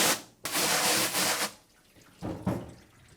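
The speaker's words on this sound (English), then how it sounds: "I'm going to get the screen wet on both sides and then let it soak" Running water wets a screen printing screen, a steady close rush of spray for about a second, then a shorter second burst after a pause.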